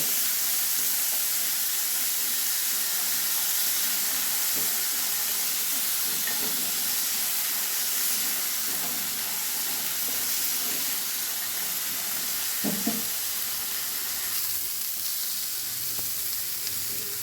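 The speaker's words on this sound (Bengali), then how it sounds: "এবার টমেটো আদা কাঁচা লঙ্কা আর একটু লবণ দিয়ে একটু ভেজে নেব" Tomato, ginger, green chilli and salt fry in a pan for a peanut chutney, giving a steady, even sizzle and hiss with occasional faint stirring scrapes and no talking.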